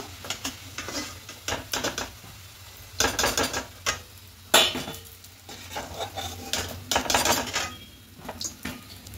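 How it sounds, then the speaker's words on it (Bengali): Sattu kachoris fry in a pan on a gas flame with a sizzle underneath, while a metal slotted spoon scrapes, clinks and knocks against the pan in irregular bursts as they are lifted out. "দেখুন, লাল করে ভাজা হয়ে গেছে। ঠিক মিডিয়াম ফ্লেমে ভাজতে হবে, তারপরে গ্যাসের ফ্লেমটা বাড়াতে হবে। তো এবার তুলে নেব।"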